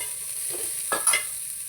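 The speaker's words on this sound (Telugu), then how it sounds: "తర్వాత ఆనియన్స్ వేసుకొని కొంచెం వేగనివ్వాలి." Onions frying in oil in a pan for palak pasta, a soft steady sizzle with a brief stirring scrape near the middle, no talking.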